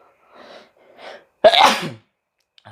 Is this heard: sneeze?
yes